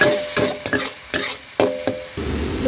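Minced pork for pad kra pao is stir-fried in a hot pan, with a spatula clattering and scraping in irregular strokes over a sizzling hiss.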